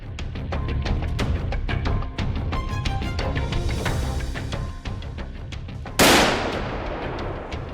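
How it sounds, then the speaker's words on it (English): Sharp gunshot-like cracks from a Winchester SXR-2 rifle during a wild boar hunt, with rapid loud impulsive bangs throughout and a heavier broadband blast near the end. "used the Winchester SXR-2 gun to hunt wild boar"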